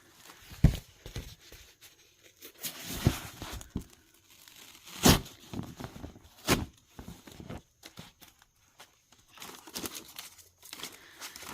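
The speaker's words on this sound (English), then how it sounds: "So I'm going to tear 1 in half." A sheet of dyed craft paper is torn in half, giving several rough ripping and crinkling bursts up close, separated by quieter handling rustles.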